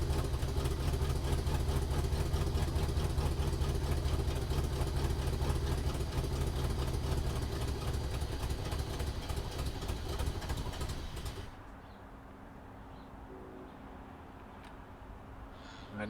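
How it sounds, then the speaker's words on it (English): A 1968 Cadillac engine with vacuum lines and a smog pump idles with a steady, rough drone for about eleven seconds, then cuts off, leaving quiet room noise. "This engine has so much going on with its vacuum and its smog pump."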